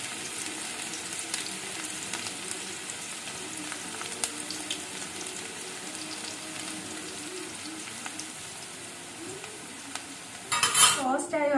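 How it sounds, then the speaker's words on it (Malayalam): Half a sliced onion fries in ghee and sunflower oil for garnishing ghee rice, a low steady sizzle with occasional utensil clinks, ending in a louder burst of clattering and scraping stirs. "ഇതിലേക്ക് ഞാനൊരു പകുതി സവോള അരിഞ്ഞത് നമുക്കൊന്ന് വറുത്തെടുക്കാം"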